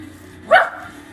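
A single short bark from a pet dog in an apartment, one close sharp yelp over a quiet low hum.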